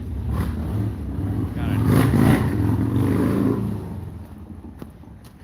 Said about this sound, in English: Got a noisy motorcycle over here.